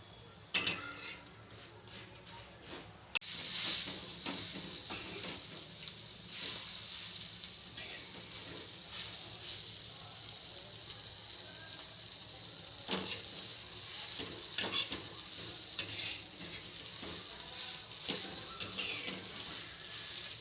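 Black masala spices sizzle and crackle steadily while roasting in a hot pan for mutton, with scattered ticks and scraping stirs, close and fairly quiet, after a brief quieter start.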